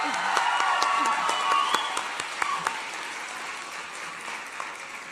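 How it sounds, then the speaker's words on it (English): An audience at a teen press conference breaks into applause, a sustained wash of clapping with a few sharper claps, with a voice briefly heard under it early on. "Round of applause."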